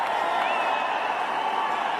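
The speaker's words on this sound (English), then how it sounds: "And the crowd finally getting into it." A large cricket stadium crowd cheers a boundary in an international match, a steady, dense roar of voices and whoops that holds at constant loudness throughout.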